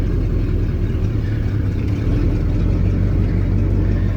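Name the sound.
1979 Ford F-350 flatbed truck engine running in granny low gear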